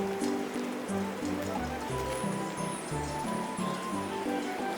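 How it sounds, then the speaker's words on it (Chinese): An egg frying in hot oil in a pan over low heat gives a steady, soft sizzle and crackle that runs without a break, close and even, with no talk over it. "先把鸡蛋煎熟"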